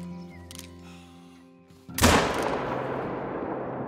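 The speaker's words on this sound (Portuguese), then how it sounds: "Ah, eu vou dar um tiro nesse porco aqui." A single loud rifle shot at a wild boar in theHunter: Call of the Wild, on an Australian coastal hunting map. The shot cracks sharply out of quiet ambience and its echo rolls away slowly.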